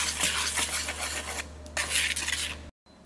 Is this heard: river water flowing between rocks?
no